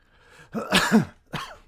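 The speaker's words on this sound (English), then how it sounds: "Sorry, I had a cough." A short burst of two harsh coughs, close and fairly loud, followed by a brief throat-clearing sound.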